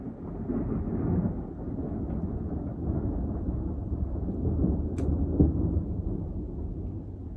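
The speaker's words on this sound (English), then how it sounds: "It's currently raining very heavily and thundering." Heavy rain pours in a steady, dense roar, with low rumbles of thunder rolling beneath it and a brief sharper crack near the end; no voices are heard.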